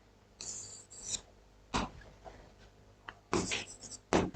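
Chalk or pen writing on a board during a class 10 geometry lesson on circles: irregular scratchy strokes in short bursts, some quick and sharp, close and fairly clear, with no speech over them.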